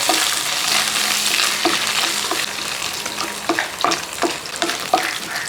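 Coconut pieces being stirred into soya chunks in a hot pan give a steady close sizzle of frying, with scraping stir strokes that grow more frequent toward the end.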